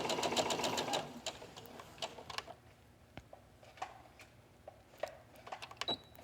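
A sewing machine stitches espadrille fabric, opening with a fast rhythmic run of stitching, then stops and starts with scattered clicks and short bursts as the stitching reverses and turns at corners.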